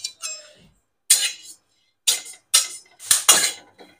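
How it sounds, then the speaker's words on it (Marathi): Magaj seeds dry-roasting in a pan for a mukhwas mix, heard as a series of sharp, close scraping and clinking bursts as they are stirred, with short silent gaps between strokes. "मगजबी भाजून घेऊ."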